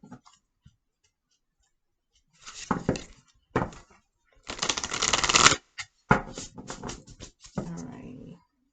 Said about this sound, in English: My cards are new, so shuffling. I'm still breaking the cards in for shuffling.